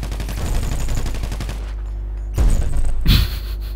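Rapid bursts of automatic gunfire in the video game GTA rattle loudly for about a second and a half, followed by a pause with a low hum, then two heavy booming shots close together.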